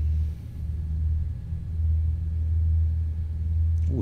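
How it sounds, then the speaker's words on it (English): Boeing 787-8 engines running in a flight simulator, a steady loud low rumble that holds throughout with no talk over it. "Ooh, engines are loud."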